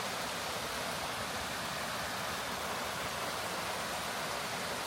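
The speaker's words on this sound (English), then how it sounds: "there is still quite a bit of water flowing out over top of this right here" Susquehanna River water pours over the top of a dam in a steady, broad rushing roar, constant and unbroken, with no voices.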